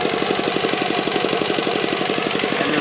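A KR 1.1 lawn mower engine runs steadily and loudly up close while mowing grass, its rapid, even firing pulses chugging along without pause.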